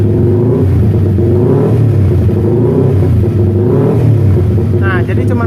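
A fuel-injected roadrace motorcycle engine revs gently, a loud close low rumble that swells softly twice under someone talking over it.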